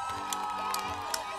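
Audience cheers and claps for a singer at a Great Orchestra of Christmas Charity (WOŚP) concert in Gniezno, a steady crowd roar with whoops over sustained background music.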